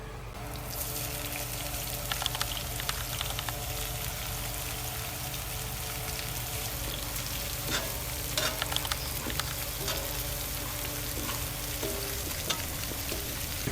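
Steady, close sizzling of food sautéing in melted butter in a pan, with occasional stirring clicks and bubbling as pineapple juice goes in, and no talk.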